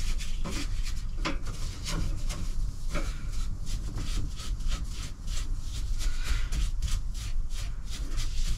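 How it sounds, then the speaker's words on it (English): A damp cloth is rubbed over the dusty stove aboard a liveaboard narrowboat. The wiping strokes come close and steady, scraping in a repeated rhythm over a low background rumble. "I'm now going to get a damp cloth, just give it all a wipe over, get any of the dust residue off."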